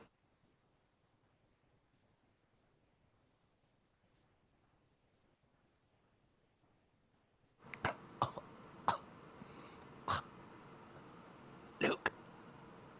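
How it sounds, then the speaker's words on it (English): After a long near-silent stretch, a person coughs several times in short, loud bursts close to the microphone, with a steady low background hiss between them. "Got a little cough coming here."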